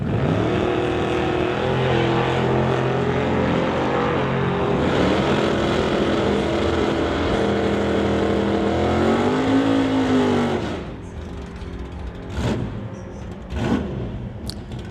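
A 1986 Chevrolet Blazer drag racing at a strip roars past loudly, its engine pitch climbing and shifting through gears before fading into the distance, leaving faint background track noise.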